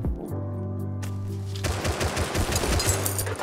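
Automatic gunfire from the survival video game Rust, a sustained rapid burst of close, loud shots that starts after a steady tonal hum and continues densely to the end.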